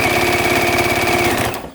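A sewing machine chain-piecing a quilt block runs in one fast, steady rhythmic burst for about a second and a half, then stops abruptly.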